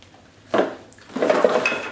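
Cardboard packaging of a Beats headphones box sliding open, two soft scraping rubs of the sleeve coming off, close and fairly quiet, with no talk.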